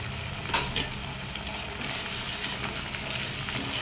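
Curry leaves go into a pan of frying capsicum with ginger paste, giving a soft, steady sizzle and crackle at low level with faint stirring scrapes throughout.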